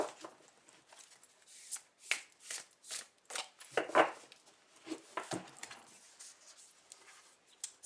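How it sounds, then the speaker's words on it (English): A large deck of tarot cards being shuffled by hand, giving a run of soft, quick riffling and tapping bursts at close range with short pauses between them and no talking. "It's quite a big deck, so it is a bit of a challenge for me to shuffle."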